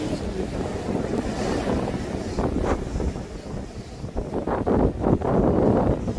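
Cold winter wind and surf at Chaeseokgang on the Buan coast near Gyeokpo beach, a steady broadband rush of gusting wind buffeting the microphone with waves washing in, continuous and fairly loud with no talk.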